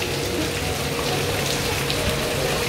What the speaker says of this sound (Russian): Дождь, мы уже промокли.